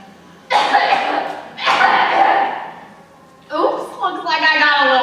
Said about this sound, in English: Oops, looks like I got a little cough.